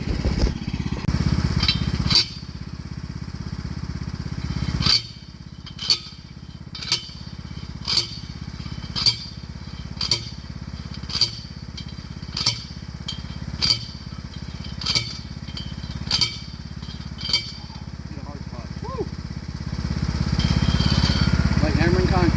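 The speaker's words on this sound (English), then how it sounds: "Like hammering concrete." Rhythmic heavy pounding strikes on concrete in a garden, about a dozen evenly spaced impacts, over a loud droning engine that swells before and after.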